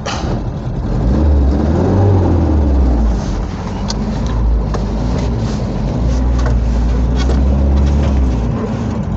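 A vehicle drives along a newly opened dirt track through a field being prepared for growing tomatoes and watermelons, its engine droning loud and close throughout with slight rises in revs and rattling over the rough ground.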